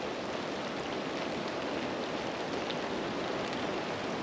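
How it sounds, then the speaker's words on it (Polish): Heavy rain pours steadily and evenly outdoors beside a trout stream during a spinning fishing trip, a dense continuous hiss with no pauses and no talking. "ale zaczęło lać."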